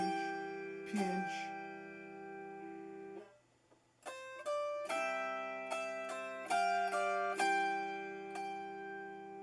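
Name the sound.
autoharp mixing finger plucks and stretch pinches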